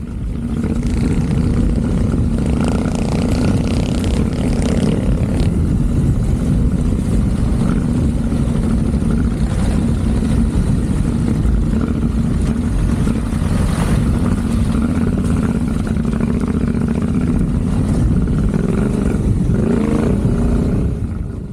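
Yamaha Ténéré adventure motorcycle ridden on an off-camber off-road track in the Yorkshire Dales, its engine a steady loud drone throughout with heavy low rumble and wind buffeting, no speech.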